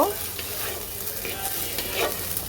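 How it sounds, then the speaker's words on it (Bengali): Chopped prawns and salt go into a hot frying pan for a banana-flower dish and are stirred, a steady sizzle with scraping stir strokes throughout, no talk. "দিয়ে দেব কেটে রাখা চিংড়ি মাছগুলি দিয়ে দেব লবণ লবণটা দেওয়ার পরে একটু হালকা মিক্স করে দেব"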